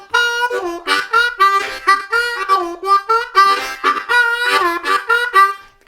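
A blues rhythm in the style of Rollin' and Tumblin' played loosely on a C harmonica, choppy chugging bursts of wavering breathy notes in a steady repeating pattern, close and loud with no talking.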